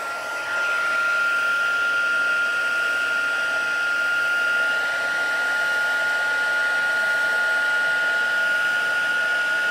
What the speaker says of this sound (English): All right, heat tool here.